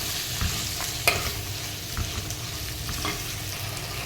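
Tomatoes sautéed for a chicken curry in a clay pot, with a steady low sizzle and occasional soft scrapes and knocks of stirring, close by and with no talk.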